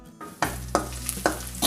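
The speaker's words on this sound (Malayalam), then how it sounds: "ചോപ്പ് ചെയ്ത് വെച്ചിരിക്കുന്ന ജിഞ്ചർ, ഗാർലിക്, ഗ്രീൻ ചില്ലിയും കൂടി ആഡ് ചെയ്ത് നന്നായിട്ട് മൂപ്പിച്ചെടുക്കാം" Chopped ginger, garlic and green chilli frying in oil in a pan, a loud hiss starting after a quiet moment, with several evenly spaced scrapes of a spoon stirring through the sizzle, no speech.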